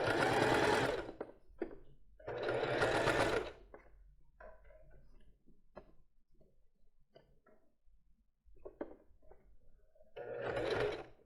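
A sewing machine stitches a basic lace bra cup, running in loud bursts of rapid mechanical whirring separated by quiet pauses with small handling clicks while the fabric is stretched and turned.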